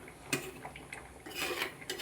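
A utensil scrapes and clinks against a pot of curry with curry leaves, with a few sharper knocks and quieter stirring in between, close and fairly soft.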